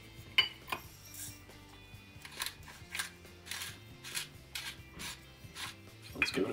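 A pepper grinder cracks fresh black pepper with a string of dry rasping twists in a quick, uneven rhythm, close by and fairly quiet over a low background hum.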